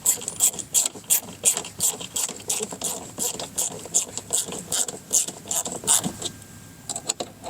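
A screw being driven by hand into a mud flap insert on a 2017 or later Mazda CX-5, heard as a rapid rhythmic series of close ratcheting clicks with brief pauses between bursts.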